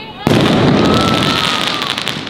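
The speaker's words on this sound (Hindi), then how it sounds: "तो गाइस हमें प्रॉपर जगह मिल गई है पटाखे बजाने की" A sudden sharp firecracker bang at Diwali, then a sustained burst of crackling and hissing explosions, loud and close.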